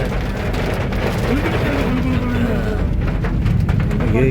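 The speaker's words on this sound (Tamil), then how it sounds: "நல்ல மழை" Heavy rain falling on an area of Puthenchanthai and Kurunthancode in Kanyakumari district, a steady dense roar of water that holds close and loud from start to end, with a voice faintly audible beneath it.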